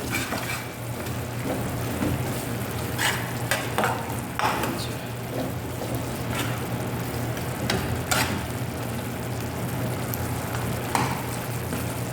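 Eggplant frying in a pan sizzles steadily at close range while a utensil stirs and scrapes through it in irregular clacks, over a low, constant hum.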